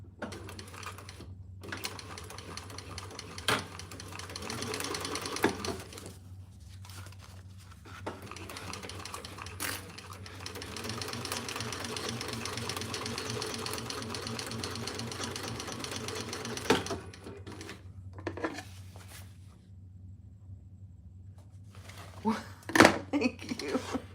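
A sewing machine stitches fabric boxes for a divided basket in steady, rhythmic bursts that stop and start, running fairly quietly while someone talks over parts of it.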